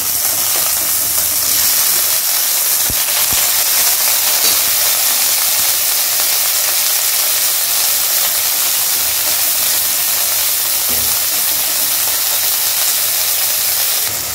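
Green chillies and tomatoes sizzling steadily in a hot pan for masala puri masala, a continuous close frying hiss with occasional stirring clinks, no talking.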